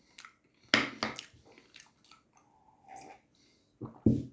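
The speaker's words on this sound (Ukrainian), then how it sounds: "Доїдаємо буці і їмо масло." Butter being eaten plain, with soft wet chewing and bites close to the mic, a few louder crunchy chomps in irregular bursts separated by quiet pauses.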